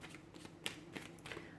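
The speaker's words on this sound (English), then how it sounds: "So we'll give the cards a shuffle here" Tarot cards are shuffled with quick, papery riffles and soft snaps, several short bursts close by, fairly quiet.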